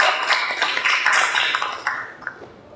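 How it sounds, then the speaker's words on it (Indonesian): Classroom applause from a group of students, a dense patter of many hands clapping together for a couple of seconds, fairly close, then thinning out and fading toward the end. "kita berikan tepuk tangan untuk ini."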